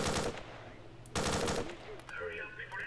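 A machine gun in the shooter game Stalker fires loud, rapid bursts, broken by a short gap, with fainter battle noise trailing behind.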